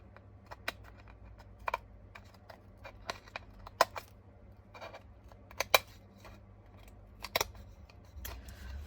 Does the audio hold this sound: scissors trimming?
yes